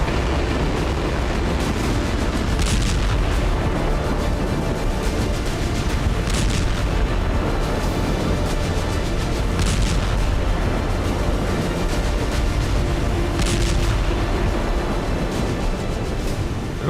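A BM-21 Grad rocket launcher firing in a war zone: a continuous loud roar of launches, with sharper bursts standing out every few seconds across the whole stretch.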